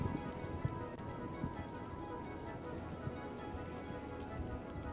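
Steady rain falls in the city-building game Cities: Skylines, a continuous even hiss of drops on surfaces with scattered small taps and no voices.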